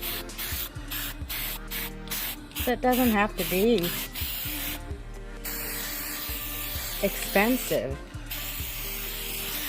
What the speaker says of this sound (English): The only thing I did was bought some spray paint.